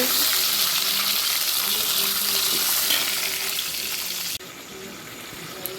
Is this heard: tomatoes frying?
yes